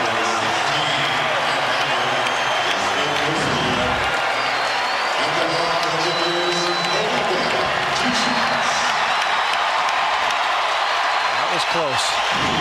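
A basketball arena crowd during a Lakers vs Raptors game applauds and cheers in a dense, steady roar throughout, with commentators talking over it.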